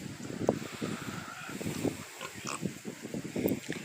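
Butcher hog, the biggest of the group, grunting in short repeated bursts close by, with wind rumble over the microphone and no talking.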